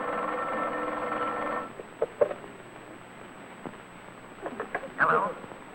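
A telephone rings with a steady buzzing tone heard through a line, then cuts off, followed by faint clicks and a brief voice.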